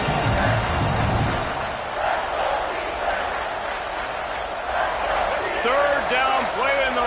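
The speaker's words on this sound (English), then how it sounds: "this crowd is at fever pitch" Stadium crowd roaring at a Clemson vs NC State college football game during a third-down red-zone play, a steady dense wall of cheering with an announcer talking over it.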